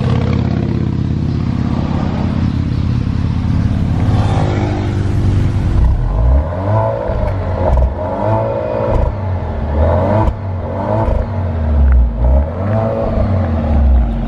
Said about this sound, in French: je vais démarrer la Giulia, on va voir si elle fait le même bruit.